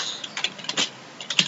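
Keystrokes on a computer keyboard while a Unix command is typed, a brief run of crisp clicks in small irregular bursts, close and fairly quiet, with no talking.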